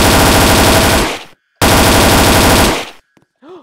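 Two long bursts of rapid automatic gunfire from a gun in the Roblox game SCP Containment Breach, loud and close, separated by a brief silence and followed by faint clicks.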